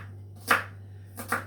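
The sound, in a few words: knife chopping vegetables for stuffing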